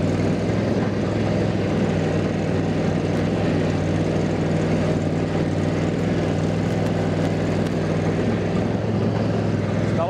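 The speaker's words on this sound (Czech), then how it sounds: "Naperu to do toho kopce přímo pod plným plynem, zhruba 40 stupňů." A KARSIT K 22/102 HX garden tractor's two-cylinder engine drones at full throttle while climbing a steep hill of about 40 degrees, a loud, close, steady roar that holds without a break.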